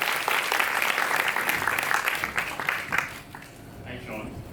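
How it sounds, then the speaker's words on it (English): An audience applauds a guest speaker, dense clapping that fills the first three seconds and then thins and fades. A voice comes in faintly near the end. "please give him a huge round of applause"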